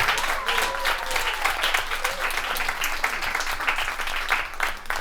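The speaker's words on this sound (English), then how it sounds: "please give a round of applause for the teachers who stick up for the dorks and the dweebs" A crowd at a live storytelling show claps steadily in a thick, continuous wave of applause, fairly loud and close, with a few faint voices mixed in.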